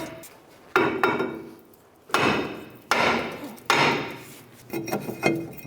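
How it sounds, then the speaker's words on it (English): A heavy hammer strikes the back of a stuck brake rotor on a Mitsubishi Outlander, about six blows at irregular intervals, each with a ringing decay, close and loud. "we're going to switch to a little bit of a heavier hammer and get some hits on the back side"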